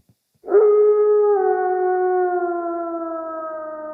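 One long wolf howl starts abruptly after a moment of silence and holds steady, a clear wavering tone gradually easing down in pitch.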